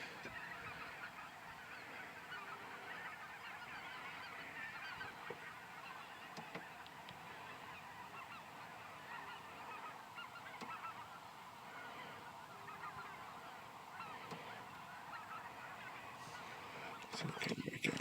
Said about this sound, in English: this field's just stacked with geese.